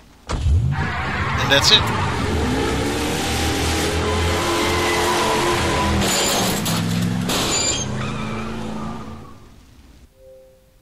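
A car pulling away during an escape in Hitman 3: the engine starts, revs and rumbles steadily for several seconds before fading out. Someone speaks briefly near the end.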